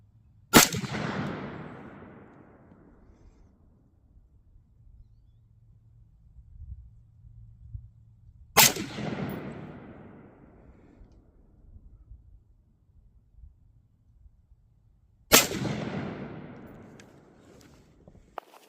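Three separate gunshots from a 16-inch AR carbine fire at a target 25 yards away, each a sharp, loud crack with a trailing echo, spaced about seven seconds apart with quiet background between them.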